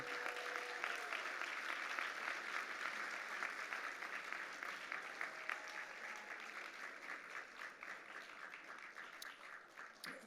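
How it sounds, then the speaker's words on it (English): Sustained audience applause fills a museum gala hall, with steady dense clapping from a large crowd that continues throughout at a moderate distance. "I'd like to give John Herzog a round of applause"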